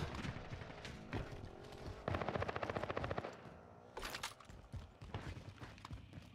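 Assault rifle gunfire in Call of Duty Warzone on the Caldera map: rapid automatic bursts and scattered single shots with mechanical clatter, moderately loud, in a busy game soundscape.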